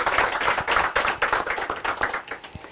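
A small group claps steadily at a press conference, quick irregular hand claps close by, a brief round of applause without cheering.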